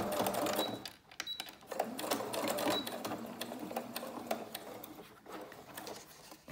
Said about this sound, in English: go with the straight stitch here and just sort of attach it like that